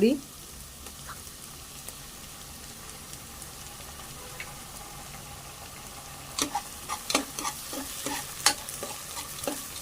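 Onion with ginger-garlic paste sautés in a pan for panchmel dal. A low, quiet sizzle runs at first, then spatula scrapes and clatters grow louder and more frequent toward the end.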